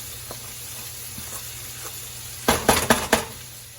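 Filling for spaghetti stuffed peppers browns in a pan with a low, steady sizzle, then a quick run of four or five loud clanks and scrapes near the end as it is stirred.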